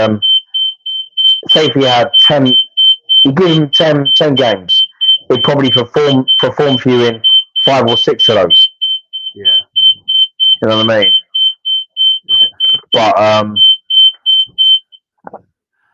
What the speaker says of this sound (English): Sorry, that was the alarm.